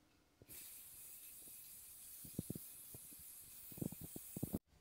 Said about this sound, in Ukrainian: В моєму випадку це ось така універсальна емаль в балончику